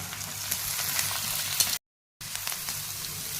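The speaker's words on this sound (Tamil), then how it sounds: "அதுக்கப்புறமா ஒரு கப் அளவுக்கு கேபேஜ் சேர்த்து எல்லாத்தையும் நல்லா வதக்கிக்கலாம்" Capsicum, carrot and cabbage sautéing in a pan for egg fried rice, a soft steady sizzle with light stirring taps, broken by a short dead-silent gap midway, no talking.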